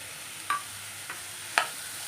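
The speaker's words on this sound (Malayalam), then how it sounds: "തൈര് ഒഴിച്ച് നമുക്കൊന്ന് വഴറ്റാൻ നന്നായിട്ട്" Onion masala with yogurt sautés in a pan for egg biryani. A soft, faint sizzle hisses in the background while a spoon stirs and scrapes, making about three sharp clicks.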